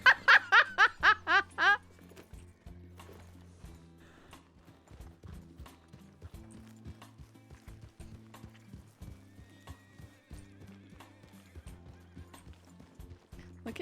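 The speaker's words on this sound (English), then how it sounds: "Look at my pretty horsey," A horse in the RedM western roleplay game gives a loud whinny at the start, then steady clip-clop hoofbeats continue at a walking pace with faint background tones.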